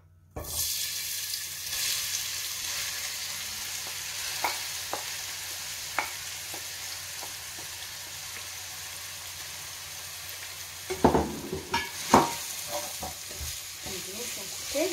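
Onions frying in a pan as the start of a zucchini sauce, a steady close sizzle running throughout with scattered light taps, then louder stirring scrapes and clatter near the end, with no talking.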